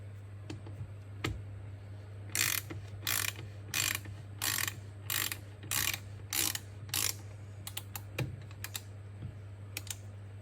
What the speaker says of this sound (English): 17mm socket, very, very gently.